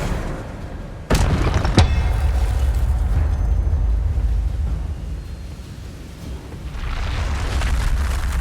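A spell is cast in the Hogwarts Legacy video game: a sudden sharp burst near one second, followed by a second crackling hit, with a rumbling, windy backdrop continuing afterward.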